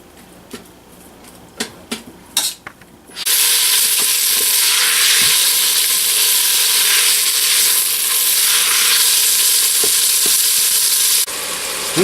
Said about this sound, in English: go ahead and add all of the 1 pound of Italian sausage. And from there we're just going to brown it.